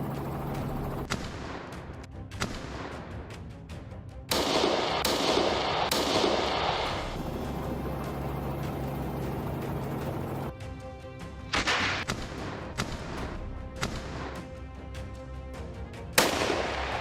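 Rifle shots fired from a helicopter at wild boar crack out several times, sharp loud reports spaced irregularly over a constant rotor drone.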